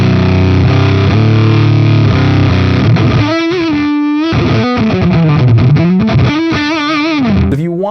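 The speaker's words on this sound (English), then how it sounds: "get the fuzz sound that sounds like it's collapsing in on itself" Suhr Thornicus fuzz pedal driving an electric guitar, alone and loud throughout: thick, saturated chords give way to a sputtering, gated fuzz on sustained single notes and bends, breaking up and collapsing as the notes decay.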